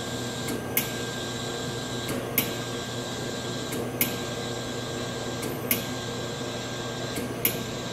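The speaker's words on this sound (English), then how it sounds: "So your compressor is down here for your freezer" Freezer compressor in an MBraun Labmaster 130 glove box, freezer set to -35, humming steadily close by, with a faint click that repeats about every one and a half seconds over the constant drone.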